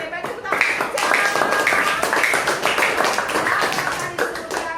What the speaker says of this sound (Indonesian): tepuk tangan untuk Cang